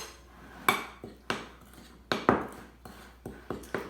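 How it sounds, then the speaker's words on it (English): A spoon stirs wet ingredients into dry ones in a bowl, making a series of about eight irregular clinks and scrapes against the bowl, moderately close, with no talking. "and stir it up"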